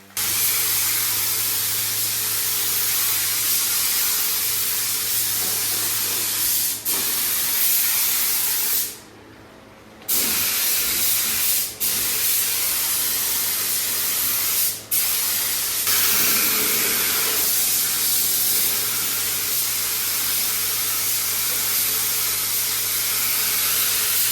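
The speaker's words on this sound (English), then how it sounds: "So that's the first coat of lacquer on it." A steady, loud spray-gun hiss lays the first lacquer coat on a Vauxhall Nova, with a short pause near the middle and a few faint clicks as the trigger is released and pressed again.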